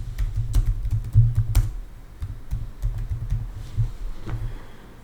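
Typing on a computer keyboard while entering text in a Word shape, with quick irregular clusters of close, crisp key clicks and short pauses between bursts.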